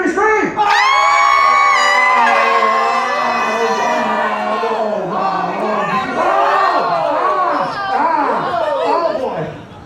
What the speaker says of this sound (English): Everybody scream along with Bob.